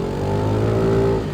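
A Kymco G7 scooter accelerates up a gentle mountain road, its engine note rising steadily in a loud, close, continuous drone before easing off at the end.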